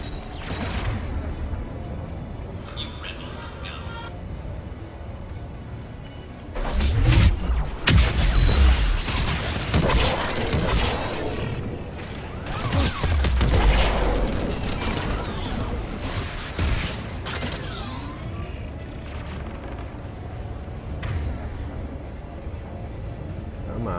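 Turret fire in the Mass Effect video game, heard as heavy bursts of rapid mechanical shots and booms in two loud stretches over a constant engine-like rumble.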